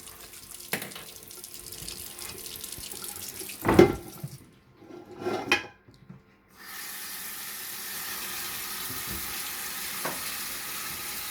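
Tap water runs into a sink in Iceland, first with clattering and splashing as meat is rinsed, then settling into a steady, continuous stream.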